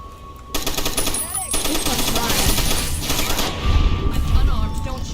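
Rapid bursts of automatic gunfire crackle and boom in the Tale of Two Wastelands video game, sustained and dense throughout with heavier low booms toward the end, mixed with game sound effects.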